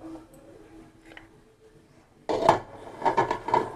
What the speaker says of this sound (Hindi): अब कुकर को बंद कर देंगे,